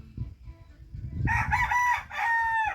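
A rooster crows nearby in two strong cock-a-doodle-doo calls, the second after a brief pause, over faint low background rumble and chatter.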